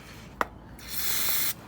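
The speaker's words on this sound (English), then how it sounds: "So let's just give that a little spray." A short, hissing burst of spray cleaner is aimed at a Lexmoto ZSB125 motorcycle's rear brake switch. A brief click comes first, then the close hiss lasts about half a second before cutting off sharply.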